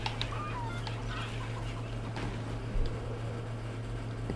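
Chicken clucking in Far Cry New Dawn, a steady run of soft clucks over a constant low game hum, with a slightly louder cluck near the end and no talk.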